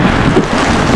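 Heavy rain pours down in Campanalig, a steady, dense, close roar of water that holds level for the whole moment, with no voices.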